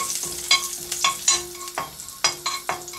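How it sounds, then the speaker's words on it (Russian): A spoon scrapes and stirs around a sizzling frying pan, with repeated sharp strokes over a steady hiss of hot oil. "Перемешиваем."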